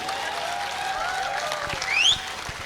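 Audience applause at a live poetry performance by Piyush Mishra, a steady wash of clapping throughout with a brief swell near the end and no speech over it.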